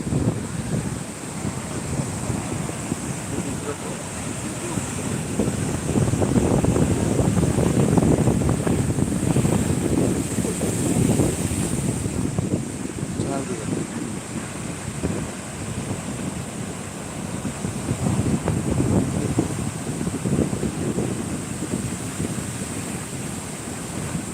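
Sea waves surge and wash up the sand at Shankarpur beach on a busy holiday, a steady roar of surf with wind buffeting the microphone, swelling louder mid-way, no talk.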